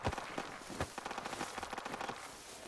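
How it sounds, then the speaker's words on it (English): Rapid gunfire crackles through a Project Reality battle: dense bursts of automatic shots and sharp single cracks in quick succession, moderately loud and continuous for the whole stretch. "Oh, being shot at."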